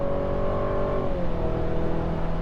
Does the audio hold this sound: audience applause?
no